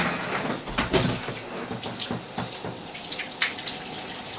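Shower water runs steadily at close range, a continuous hiss of spray with occasional splashes, no one talking.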